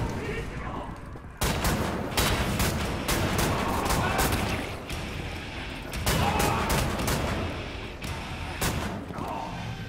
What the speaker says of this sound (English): Automatic shotgun?